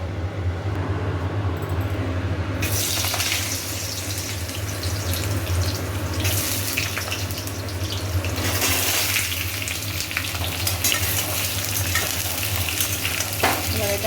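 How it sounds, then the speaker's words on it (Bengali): Potatoes fry in mustard oil with cardamom, cinnamon and bay leaf, giving a loud, continuous sizzle that swells with stirring scrapes and pan clatter close by, with no speech. "ভালো করে ভাজি, তারপরে দেবো টমেটো।"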